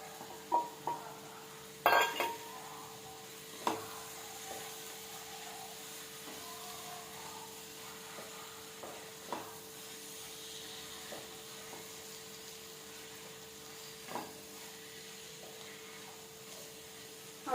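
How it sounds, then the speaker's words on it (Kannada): Potatoes sizzle softly in a pan for a potato and capsicum gravy, with a steady low hiss and occasional clinks of a spoon stirring them. "ಇದು ಈಗ ಫ್ರೈ ಆಗ್ತಾ ಇದೆ."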